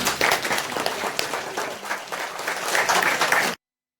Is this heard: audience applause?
yes